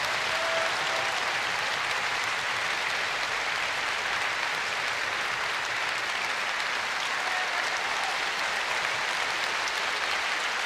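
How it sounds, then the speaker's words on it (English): An opera house audience applauds the conductor and principals after a performance of Norma in Sydney, with dense, sustained clapping that holds at an even level throughout. "Conductor gestures to the members of the orchestra, rising in their places to share the applause of the audience."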